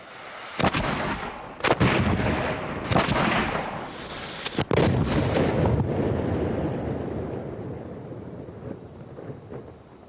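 A late-19th-century 64-pounder muzzle-loading gun fires in several sharp, booming blasts, with the reports spaced over a few seconds and each followed by a long rolling echo that fades slowly.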